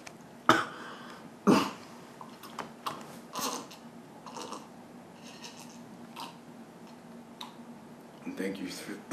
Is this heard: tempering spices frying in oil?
no